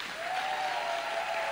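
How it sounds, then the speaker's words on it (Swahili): Church congregation clapping together, a dense steady patter of many hands held at even loudness throughout, with a faint tonal hum running underneath. "Ndo makofi ya Yesu hayo."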